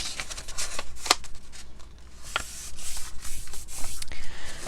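A sheet of paper in a handmade travel journal is pressed and folded into a crease, giving close, dry rustling and sharp crinkling scrapes in irregular bursts with no talking.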